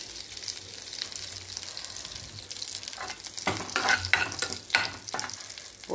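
Bay leaf and ginger dropped into hot oil in a pan for a gravy, sizzling softly at first and then crackling and spattering more loudly in bursts as the pieces are stirred, with no talking.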